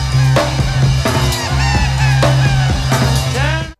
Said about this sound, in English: changing the tape speed transformed it into the noise listeners have often mistaken for seagulls